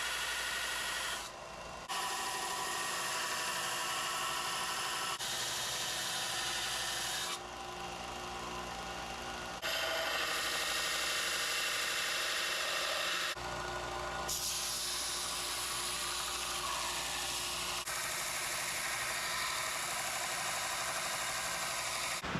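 A power tool grinds steadily and loudly against a knife handle made from spring steel, a continuous abrasive rasp running for over twenty seconds with brief shifts in pitch and pressure, alone with no voices.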